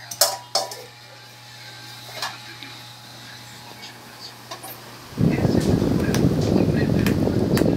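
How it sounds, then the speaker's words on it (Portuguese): A baby girl plays with a cooking pot in a home kitchen, making a few sharp metallic clanks, followed by a loud, sustained rushing noise, while someone talks. "Você vai fazer o que com essa panela, meu amor?"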